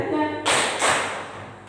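A group of teachers at a Guru Penggerak training session in Malang, Indonesia, perform a double-clap ice-breaker: two sharp, loud claps in unison, close together, with faint room noise around them.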